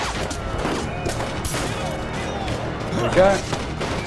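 Gunfire in the video game 1979 Revolution: Black Friday, a dense, rumbling barrage of shots and crashes running steadily under a man's speech, with one louder burst near the end.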